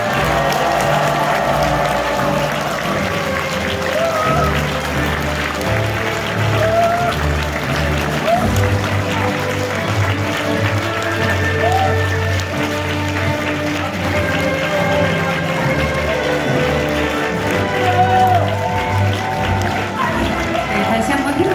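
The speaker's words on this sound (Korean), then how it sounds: "힘차게 박수 주시기 바랍니다" A crowd at a People Power Party members' rally claps steadily as regional flag delegations march in, a thick, sustained wash of applause and crowd noise with tonal music running underneath throughout.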